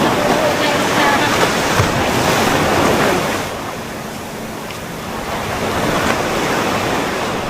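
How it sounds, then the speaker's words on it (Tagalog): Sea waves wash and crash against mushroom- and umbrella-shaped coastal rock formations, a steady close roar of surf mixed with gusty wind buffeting the microphone, easing slightly midway before swelling again. "Siguro yung hampas ng tubig yan"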